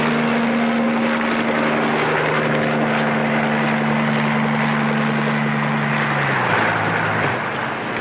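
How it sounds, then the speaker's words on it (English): A helicopter drones loudly and steadily overhead, its rotor and engine tone holding even before dipping slightly in pitch near the end, with no talking. "Can you imagine hiring a helicopter for an afternoon swim?"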